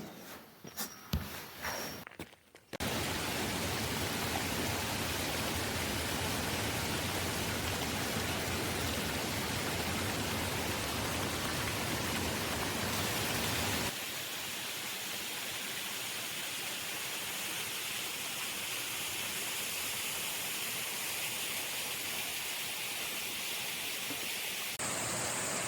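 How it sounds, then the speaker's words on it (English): The Galboda waterfall near Nawalapitiya in the Sri Lankan hills roars as a dense, constant rush of falling water, loud and unbroken, after a few seconds of other sounds at the start. "We explored GALBODA waterfall near NAWALAPITIYA. It's powerful, graceful,"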